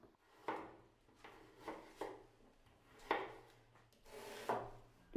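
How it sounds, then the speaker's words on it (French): A knife chops carrots into rounds on a board, giving about six separate soft thuds at an uneven, unhurried pace in a quiet kitchen. "Coupons les carottes en rondelles."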